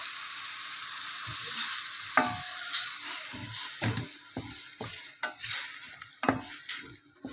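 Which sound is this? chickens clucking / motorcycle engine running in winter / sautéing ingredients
sautéing ingredients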